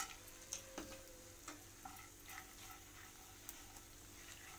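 Makhana and chironji roast in ghee in a pan: a faint, low sizzle under light, scattered ticks and taps from stirring, quiet and steady throughout.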